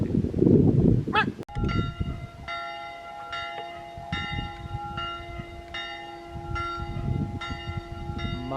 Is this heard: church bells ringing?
yes